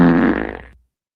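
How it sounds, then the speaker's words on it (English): A single cartoonish fart sound effect, loud and close, with a rippling tone that sputters out and stops after just under a second, followed by silence. "Seagal fart."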